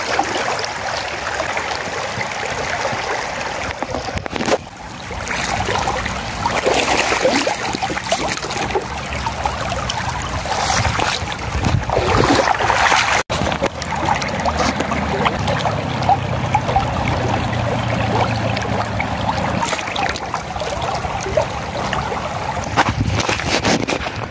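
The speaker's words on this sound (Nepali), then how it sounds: "अहिले पानी परेर मुहान फुटेर पानी बग्न थाल्यो खोलामा" A river in rural Udaypur, Nepal, swollen after rain following a dry spell, rushes with a steady broadband wash of flowing water and wind buffeting throughout, dense and unbroken.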